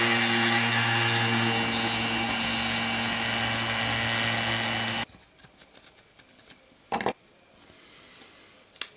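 A small drill bores a hole in a part from a 1/25 scale plastic model kit of a 1963 Chrysler Turbine, a loud whirring run for about five seconds that stops abruptly, followed by light clicks and handling taps.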